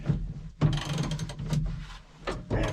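Split bolt connectors on electrical wires are tightened, producing close, continuous metallic ratcheting and grinding over a low hum, in short, uneven bursts.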